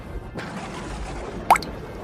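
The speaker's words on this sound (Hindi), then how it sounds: "पूरी रात खूब जोरों से बारिश होती है, जिसके मारे उस गरीब परिवार का सोना दुर्लभ हो जाता है और छत जगह जगह से टपकने लगता है" Rainwater dripping through a leaking roof during a heavy night of rain, a soft hiss of rain with a single clear drip landing midway.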